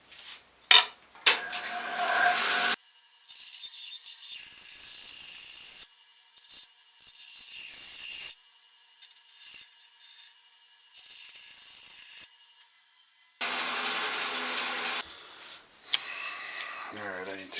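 Repeated bursts of rasping saw strokes cut through a wooden guitar head plate, with short pauses between passes, close by and moderately loud.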